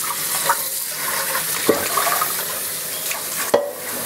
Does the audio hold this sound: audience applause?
no